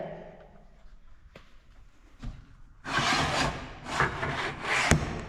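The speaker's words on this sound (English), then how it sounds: "So I've just popped this piece in here now, and we're going to engrave it." Engraving a piece of wooden sign: after a quiet start with a couple of sharp knocks, a loud, rough grinding-rasping sound begins and continues in surging bursts, close up.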